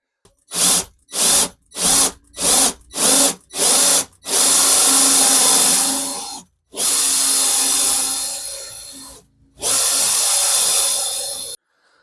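A power drill fitted with a hole saw cuts holes through a panel in a campervan shower toilet room, starting with five short bursts and then running three long continuous cuts, loud and close.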